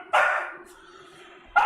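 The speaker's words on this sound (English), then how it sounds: "dog, you don't need to scream." A dog lets out a loud, sharp bark up close, then a trailing whine, and a second bark cuts in just before the end.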